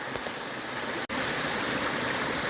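A mountain brook in a forested reservation flows steadily, a close, even rushing and babbling of water with no voices.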